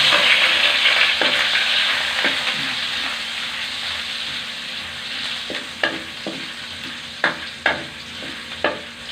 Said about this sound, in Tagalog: Gigisa na tayo ng ating sibuyas at bawang.